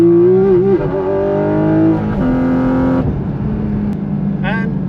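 A Porsche GT4 RS flat-six engine revs hard toward high rpm, loud and close, its rising whine climbing through gear changes with brief dips between pulls.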